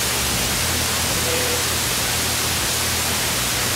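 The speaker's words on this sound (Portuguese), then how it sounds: "Você já tentou ouvir sua rádio FM favorita e só pegou estática?" Dense, hissing FM radio static fills the whole stretch at a steady, loud level, with no station signal or voices coming through.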